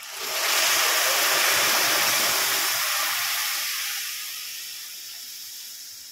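Milk poured into a hot pan of fried vermicelli for sheer khurma, giving a loud, steady sizzling hiss that swells quickly, holds for a few seconds, then gradually fades as it settles.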